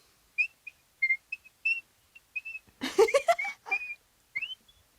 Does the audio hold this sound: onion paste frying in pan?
no